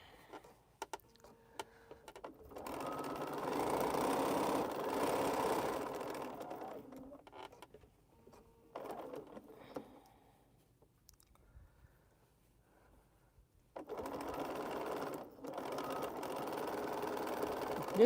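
Home sewing machine stitching quilt fabric in quiet, moderate bursts, running a few seconds at a time with pauses and small handling clicks between runs.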